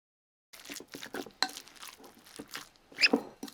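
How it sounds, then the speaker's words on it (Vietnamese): Gloved hands knead and mix a ground pork filling with minced scallion, giving soft, wet squelching and crinkly plastic-glove sounds in irregular pulses, close and quiet. "Đeo bao tay vào rồi mình nhồi trộn thật là đều nha các bạn."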